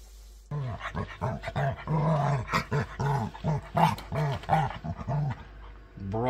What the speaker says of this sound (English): You're such a spoiled dog.